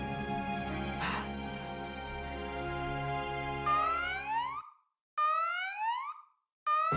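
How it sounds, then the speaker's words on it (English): A loud electronic siren in Valkyria Chronicles 4 wails in rising, repeating sweeps, starting under a dense hum, then cutting in and out in short bursts. "the siren's back. I fucking hate this thing."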